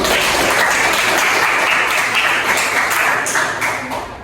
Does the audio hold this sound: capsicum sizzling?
no